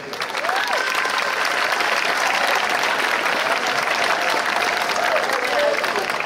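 Loud, sustained applause from an audience at a gathering in Bouaké, a dense steady wash of clapping lasting about six seconds, with some voices faintly audible beneath it.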